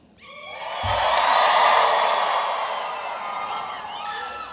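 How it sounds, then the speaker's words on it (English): Graduation crowd at a spring university commencement cheering, whooping and shouting loudly for several seconds, a broad sustained roar that swells early and then stays strong. "or you can cheer loudly."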